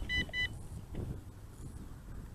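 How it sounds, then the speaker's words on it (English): Two short pairs of high electronic beeps from an HS720G quadcopter near the start, then a steady low hum and faint rustling noise. "Oh, the beeping has resumed."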